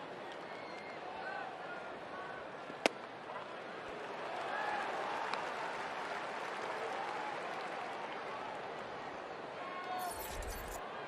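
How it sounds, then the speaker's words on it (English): A baseball crowd at a Padres–Reds game sends up a distant, broad roar that swells mid-way and fades, with a sharp crack early on and faint voices murmuring beneath. "Wasn't that roar of the crowd nice?"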